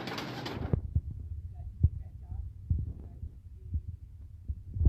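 Breeder pigeons kept on a Karachi rooftop by champion fancier Ustad Haji Yusuf give low, throbbing coos that repeat in a soft, steady rhythm close by, after a brief burst of broadband noise at the start.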